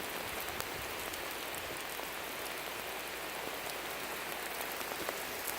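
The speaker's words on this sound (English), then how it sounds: "But you can probably hear the rain." Rain falls steadily at night during a thunderstorm, a dense, even hiss of drops striking nearby surfaces, continuous and moderately loud, with no voices.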